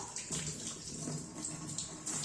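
A weak, slow stream of water from a shower falling steadily, soft and close with a continuous splashing hiss and faint dripping accents.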